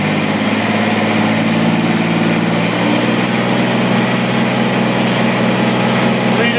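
A Kubota BX2370 compact tractor with a hydraulic loader runs at raised RPM, giving a loud, close, steady engine drone that holds even throughout.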